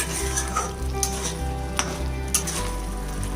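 Palak paneer with Everest garam masala cooks over a high flame with a steady close sizzle. A spoon gives rhythmic scraping stirs roughly every half second.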